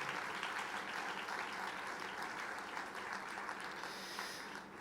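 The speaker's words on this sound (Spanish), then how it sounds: "Ese aplauso de alabanza al Señor" Faint, sustained applause of praise fills a church service, a steady wash of many hands clapping that fades slightly toward the end, with no talking over it.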